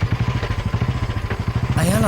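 A Royal Enfield Bullet motorcycle engine thumping near a beach, a loud, regular low-pitched chug at idle, then a voice cuts in at the end.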